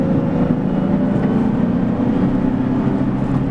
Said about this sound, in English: Any noise that you hear is going to be road noise from the tires or a little bit of induction noise